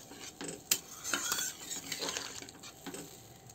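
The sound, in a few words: gravy being added to prawn curry in the pan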